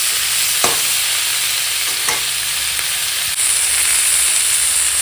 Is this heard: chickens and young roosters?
no